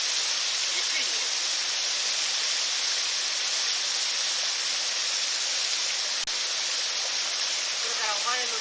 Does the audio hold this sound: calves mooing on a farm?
no